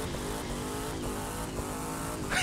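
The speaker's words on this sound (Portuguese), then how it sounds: "Isso sim que eu chamo de queimar pneu, meus amigos." Car engine roaring steadily in The Crew 2, with tyres squealing and burning rubber under a sustained, pulsing rev, ending with a brighter screech.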